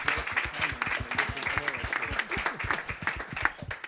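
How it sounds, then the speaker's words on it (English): An audience claps together at an evening impact investing event. The dense applause stays fairly even throughout, with many overlapping hand claps heard from a moderate distance. "A round of applause"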